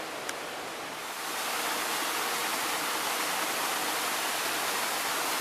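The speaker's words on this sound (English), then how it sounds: "For a man-made waterfall, this is really pretty cool." Steady, loud rushing of a man-made waterfall in a botanical garden that swells after a moment and then holds constant, a broad continuous splash.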